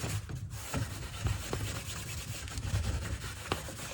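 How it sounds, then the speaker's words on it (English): A cloth rubs beeswax to a gloss on a restored wooden sewing machine cabinet, a soft repeated rasping swish in steady strokes, close up and with no talking. "a little bit of polishing to gloss up that beeswax"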